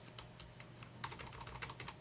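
Quick keystrokes on a computer keyboard nudge elements around in Photoshop, light clustered clicks tapping in bursts close to the microphone, quiet with no talking.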